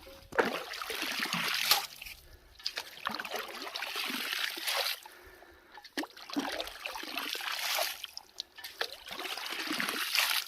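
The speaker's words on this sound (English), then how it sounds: "Just need a little more water in that bucket to come up to the bottom of the" Water trickles and splashes into a bucket feeding a gold sluice classifier outdoors, a close, continuous pouring stream that swells and dips without talking.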